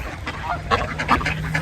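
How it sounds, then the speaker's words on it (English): Geese honking at close range as they walk up to be hand-fed, several short nasal calls bunched together over a low background hum. "I love how the geese just walk up and go, honk, honk."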